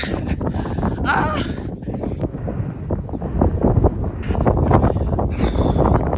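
A strong headwind buffets the microphone while someone runs outdoors, a loud, gusty rumble that swells toward the end. Brief voice fragments sound under it.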